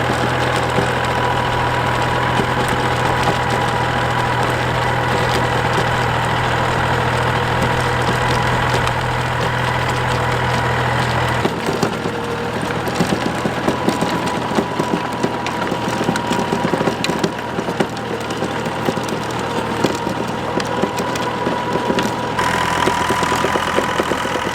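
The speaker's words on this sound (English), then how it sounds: "do a bit more rotavating." A rotavator's engine runs continuously while tilling ground on a croft, a loud, rough mid-pitched drone with the tines churning soil that changes tone partway through, no talk.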